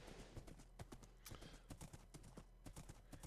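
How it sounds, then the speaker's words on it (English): Horse hooves clip-clop in Minecraft, a quick run of sharp, close hoof knocks in an uneven galloping rhythm that keeps going throughout, with no other sound over them. "Watch out, horse."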